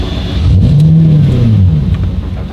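A Lamborghini LP640 engine revs loudly up and back down in one rough swell as it struggles to stay running and threatens to stall, deep and close, with no talking.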